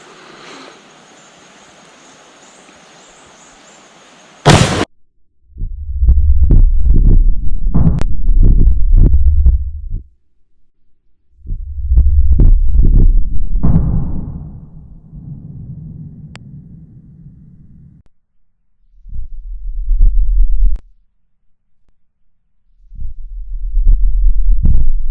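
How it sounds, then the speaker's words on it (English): An 1886 Winchester lever action rifle in 50-110 fires at a steel plate on a board outdoors, with a loud sharp shot followed by long booming rumbles and several more heavy low blasts. "we'll try to shoot that metal plate on top of that board."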